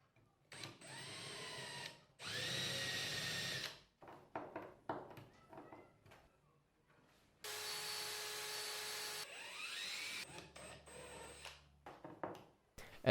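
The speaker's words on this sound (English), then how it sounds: "I first put in a screw on each end." A power drill drives screws through a wooden strip into a sled base, in three long whirring bursts separated by quieter knocks and handling noises, close up with no talking.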